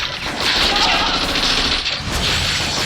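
Rapid gunfire from weapons in the mobile battle game Honor of Kings, a dense, sustained burst of shots with chatter from players mixed in throughout.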